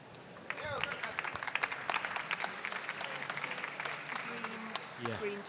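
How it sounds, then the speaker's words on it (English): Applause from the audience at a London startup pitch-and-invest final, steady clapping across the clip with a few voices and whoops mixed in, moderately loud and close. "Round of applause, everyone."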